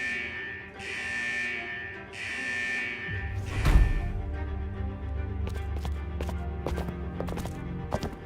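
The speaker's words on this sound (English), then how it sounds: "Is that the central alarm of the vault?" Central vault alarm in Wuthering Waves: a loud, insistent buzzing alarm sounds in two long pulses, then low rumbling game ambience takes over with a sharp impact and repeated clicks.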